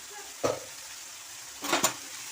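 Bitter gourd frying in a pan is stirred twice, each stir a short scraping burst over a constant low sizzling hiss.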